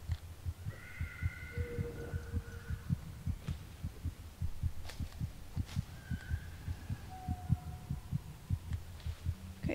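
Heartbeat sounds in the horror video game Among The Sleep throb in a steady, fairly fast double-thump rhythm, low and muffled, under faint tonal hums and ambient game sounds for the full stretch.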